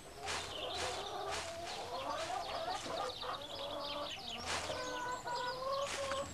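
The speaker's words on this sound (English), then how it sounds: "Just keep a lookout for our silly hens." Several hens cluck in a busy, overlapping chorus close by, with sharp squawks standing out against the steady chatter of the flock.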